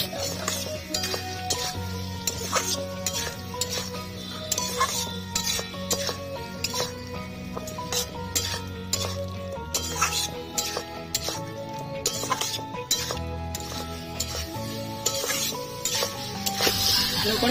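Spiced jackfruit and shrimp stir-fried in a pan, repeated rhythmic scraping and clinking of a spatula against metal over a low sizzle, continuing steadily throughout at close range.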